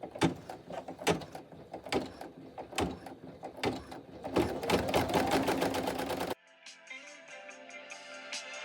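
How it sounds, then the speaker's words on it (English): Embroidery machine stitching a satin border and hole on a shaker bag tag: rapid, steady mechanical clatter of needle strokes, loud and close, stopping abruptly partway through and leaving a quieter tonal hum. "Now I'm going to stitch the final satin border and the hole."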